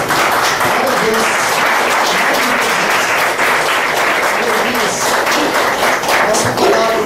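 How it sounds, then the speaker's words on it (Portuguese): A standing church congregation claps loudly and continuously, a thick, even roar of many hands filling the room, with voices calling out faintly underneath. "Os irmãos fiquem de pé e aplauda o Senhor bem forte"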